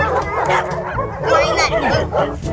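Cartoon dogs bark, yip and whimper in quick repeated bursts, loud and close, filling the stretch with busy canine noise and a hint of a voice underneath.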